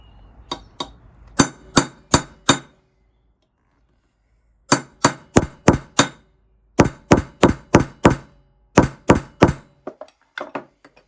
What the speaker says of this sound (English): There's not much room in there to get the hammer.